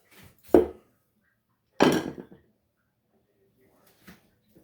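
A knife slicing through meat being trimmed for jerky, two short firm cuts close by with quiet gaps between and a faint tap near the end.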